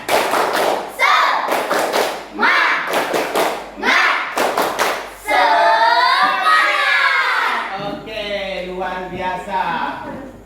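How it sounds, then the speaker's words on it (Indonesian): A classroom of students performs the rhythmic "tepuk semangat" clapping chant, with bursts of loud group claps and chanted voices, then a sustained shouted cheer near the end. "Oke, tepuk semangat."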